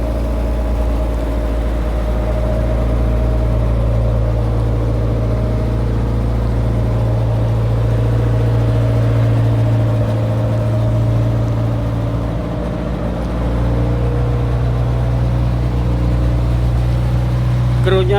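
A sea taxi boat's engine runs steadily with seawater circulated for cooling. It makes a constant low, droning hum with a tonal whine above it, close and continuous throughout.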